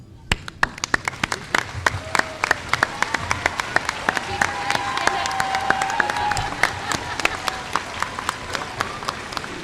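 Audience applause for teachers at a 2019 high school commencement ceremony: a broad, steady wash of many hands clapping that swells and holds through the whole stretch, with scattered sharper claps and a faint whistle-like tone under it.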